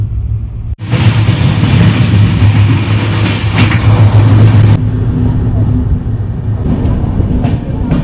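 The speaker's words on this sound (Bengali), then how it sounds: "এখন ট্রেন এসে ঢুকছে বর্ধমান জংশন" A train rumbles loudly at night as it runs into Bardhaman Junction, a brief dip followed by a dense, continuous roar of wheels and carriages with rhythmic clatter.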